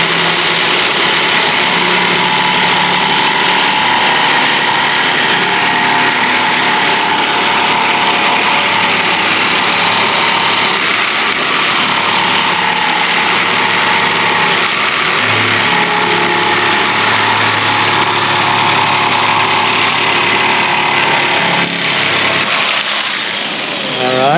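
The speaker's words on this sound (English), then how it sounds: "you guys know I love my little high-speed grinders. That's a little DeWalt unit there." A small DeWalt high-speed grinder runs loudly and continuously during fiberglass mold work, a sustained whining drone with slight pitch shifts and no talk over it.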